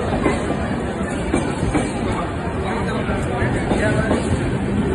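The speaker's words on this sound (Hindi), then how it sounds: "तो ट्रेन देखिए जा चुकी है" A train rumbling and clattering past near village farmland, a loud steady roar of wheels and rail noise that fills the whole stretch, with faint voices in the background.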